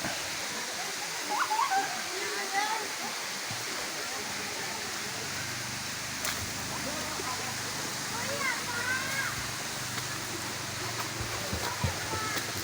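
A waterfall in Thailand, swollen after days of continuous monsoon rain, roars as a steady, dense rush of water throughout, with faint voices in the background.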